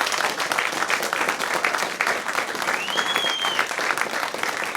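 A studio session audience applauds a band after their performance, dense continuous clapping that holds steady and fairly loud throughout with no talk over it.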